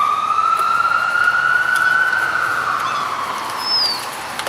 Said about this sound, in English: Ambulance going down the road.